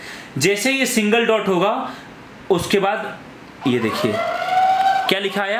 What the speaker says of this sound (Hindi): आप सुन सकते हैं सायरन बजना शुरू हो चुका है